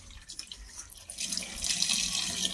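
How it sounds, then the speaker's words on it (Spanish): Water runs from a tap down through a PVC sink drain pipe. There is a steady hiss and gurgle that swells partway through and then keeps flowing evenly, fairly close, with no talk over it. "Ahí está cayendo agua."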